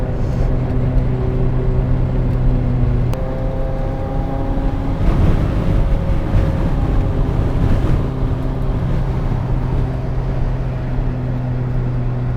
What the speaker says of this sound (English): This car sounds like a fucking airplane when it's sitting there idling at 4K.